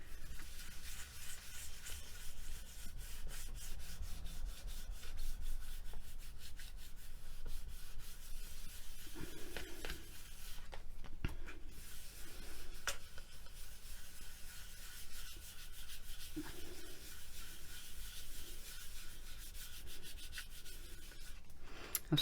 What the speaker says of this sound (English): I'll just give it a little burnish just to make sure that it's down and that the surface is nice.